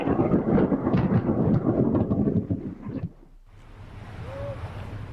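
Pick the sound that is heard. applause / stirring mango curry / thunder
thunder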